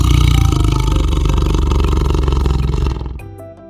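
A tiger roars in one long, loud, rough burst that fades out abruptly near the end, leaving faint music behind.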